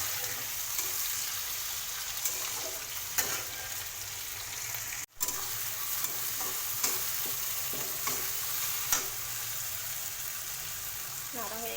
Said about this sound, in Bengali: চেরা কাঁচা লঙ্কা দিয়ে ভালো করে নাড়ব।